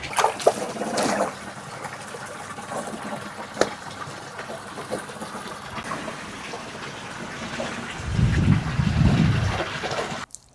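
Water gushing and trickling into a large custom koi pond as it fills, a steady broad wash that swells louder and fuller toward the end.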